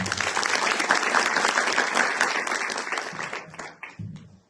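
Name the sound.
audience applause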